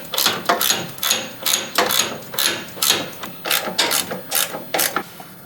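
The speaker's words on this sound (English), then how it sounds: "Let's tighten those bolts first." A ratchet tightens bolts on the rear bumper of a Jeep Cherokee XJ, giving a close, rhythmic series of rapid clicking strokes repeated about a dozen times.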